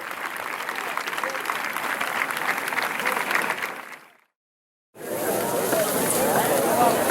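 At a threshing festival in Jesús Pobre, a crowd claps steadily and densely, cuts to silence for a moment, then the applause resumes just as full and sustained.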